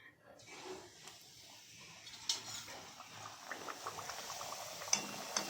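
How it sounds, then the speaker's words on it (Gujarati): Cumin puri frying in oil over a medium flame, a steady sizzling hiss with scattered pops and crackles that builds after a quiet start and continues to the end. "હવે આપણે પૂરીને આપણે તળીશું."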